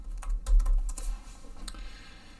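Short bursts of keystrokes clatter on a computer keyboard, close and clear, a quick run of clicks that fades out near the end.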